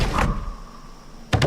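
A door is unlocked in the Project Zomboid video game: a short mechanical thunk opens the clip, then a quiet lull, then a second sharp door clunk near the end, fairly close and loud.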